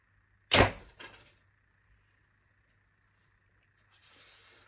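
One arrow thuds loudly into a Mybo Trueshot heavy target bag with a sharp, close impact and a smaller follow-up rattle. Quiet room hum follows, with a soft rustle near the end.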